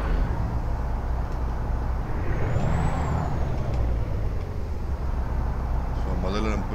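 A heavy truck in American Truck Simulator idles with a low, steady engine rumble throughout, and a sharp hiss of air brake release comes near the end.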